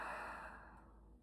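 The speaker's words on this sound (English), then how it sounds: "Couple deep breaths out." A single deep breath out, a soft, close sigh-like exhale that fades away, faint and alone.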